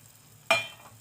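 A single sudden splash and sizzle as tamarind extract is poured into masala frying in oil for a vegetable kulambu, sharp at first and then fading quickly.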